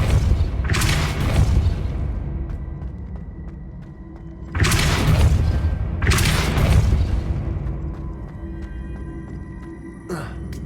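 Depulso spell blasts in the video game Hogwarts Legacy: three heavy booming thuds with rumbling tails, spaced a few seconds apart, followed by a quieter final knock.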